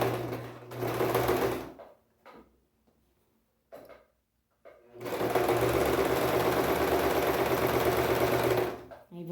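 Sewing machine stitching a second practice seam in a beginner's sewing lesson, with a reverse stitch at the start: two loud runs of steady motor whir broken by a short pause and a few soft clicks, with brief speech in between.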